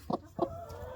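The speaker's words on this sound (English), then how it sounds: "Oh, she's a cute chicken." A hen clucks twice close by, two short quick clucks a fraction of a second apart with a faint trailing murmur.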